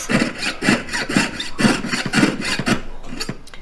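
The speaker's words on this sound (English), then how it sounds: "So we're just going to cut out this heart." A heart shape being cut out, with a steady run of rhythmic back-and-forth sawing strokes, close and fairly loud, about a dozen strokes with no talking.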